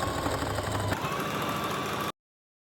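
A sewing machine runs a zigzag stitch attaching 1/4 inch elastic to the legs of baby bloomers, a close, steady mechanical whir that stops abruptly after about two seconds.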